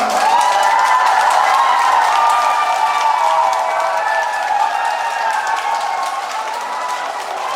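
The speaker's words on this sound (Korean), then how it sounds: "이렇게 박수 소리가 많이 나오는 거 보니 최고입니다" Loud, sustained applause and cheering from a concert crowd awaiting a singer, dense clapping with high vocal whoops layered over it, holding steady and easing slightly toward the end.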